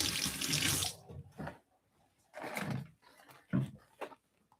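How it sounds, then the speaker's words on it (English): A squirt bottle of filtered water sprays arugula microgreen seeds: a long hissing spray burst opens, then several shorter spritzes and handling noises follow, close and fairly quiet. "I'm going to take a squirt bottle and spray the seeds so that they're all wet"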